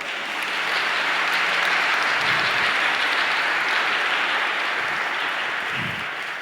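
A congregation at a Catholic Mass gives a round of applause for Mary, a steady, even wash of many hands clapping at moderate volume for several seconds, swelling and then easing slightly near the end.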